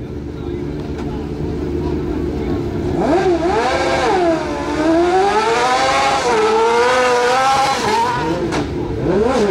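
Autocross car powered by a Kawasaki 1400 ZZR motorcycle engine with chain drive and all-wheel drive, revving high and rising and falling in pitch, loud and close, with voices nearby.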